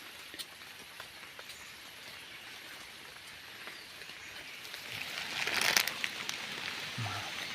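Heavy rain falling steadily outdoors, a dense broadband hiss that swells louder near the end with a brief sharper burst, with no talking.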